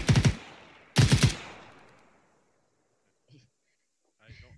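Two loud, close bursts of machine gun fire in the military shooter Arma 3, each a rapid string of shots with a long decaying echo, followed by faint scattered sounds.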